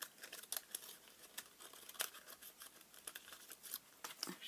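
Scissors snipping through card stock while trimming a piece for a tuxedo-style box card, a quiet series of short crisp cuts and rustles, close and without talk.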